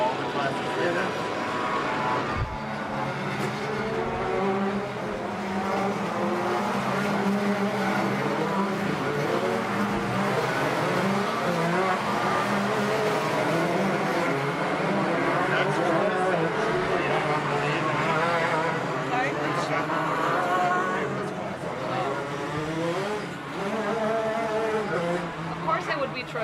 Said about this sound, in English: these are the fastest cars that of all the classes right now